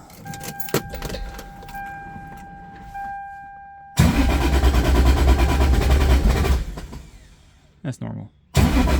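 A 1997 Toyota Supra with a new ignition coil kit: keys jangle and a chime sounds, then the engine cranks and catches loudly, idling roughly before cutting out, with a brief restart at the end.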